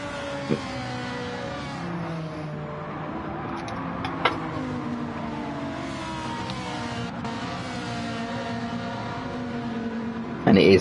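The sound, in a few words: GT1 race cars driving at Watkins Glen in a racing video game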